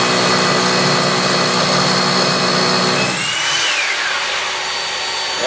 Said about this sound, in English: it's going to go ahead and kick on the vacuum, and then you're ready to drill.